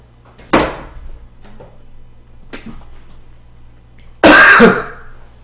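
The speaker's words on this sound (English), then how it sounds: "Coughing with coffee, that's too bad." A person coughs hard after drinking coffee: one sharp cough burst early, a few softer throat sounds, then a louder, longer fit of coughing near the end over a low steady hum.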